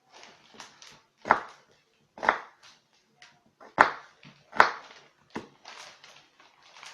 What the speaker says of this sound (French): on va les couper à tout petit.